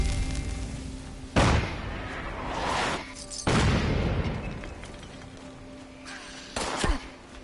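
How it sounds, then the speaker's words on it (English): Artillery barrage in the game Fallout 76: three heavy booming explosions, each a sudden loud blast followed by a rumbling decay, spaced a couple of seconds apart over a quiet background. "You don't want to be in that mess during the barrage."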